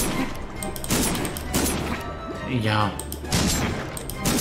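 Cannon fire in the Pumpkin Jack video game booms in a rapid series of heavy blasts and crashes, dense and loud, with a brief spoken word over the din.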